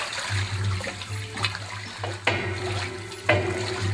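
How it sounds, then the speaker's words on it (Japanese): Black yeast fermented liquid being poured, giving a trickling, splashing flow over a low steady hum, with a few sharper splashes spaced through the pour. "黒酵母発酵液を注いでいきます。"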